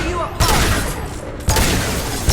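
Gunfire in the video game Mass Effect 2: loud bursts of shots erupt around half a second and again near one and a half seconds, dense and close, over continuous combat noise and a background of game effects.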